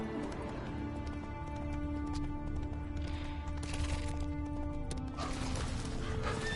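Roach, a horse in The Witcher 3, galloping with fast, steady hoofbeats under a constant musical background, loud and continuous throughout.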